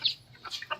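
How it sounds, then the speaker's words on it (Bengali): Chickens at a rural home give a few short, close clucks in quick succession, the calls clear over a quiet background. "আমাদের বাড়িতে অনেক মুরগি হয়ে গেছে"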